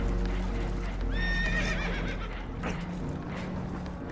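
Spooked horses in Red Dead Redemption 2 whinny in a clear rising and falling neigh over a steady low rumble of water and boat noise, with a few fainter snorts and shuffles afterward.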